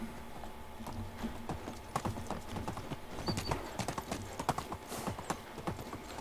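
A ridden horse in the medieval survival game Medieval Dynasty clip-clops along in a steady, quick rhythm of hoofbeats. The hooves sound fairly faint and continuous, with no one talking.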